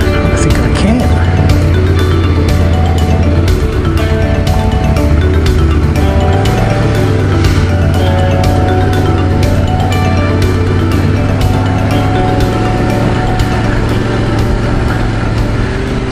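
A Yamaha Tenere T700 motorcycle on the move, its engine droning steadily and loudly throughout with a shifting tone as the rider changes speed, with a voice talking over it.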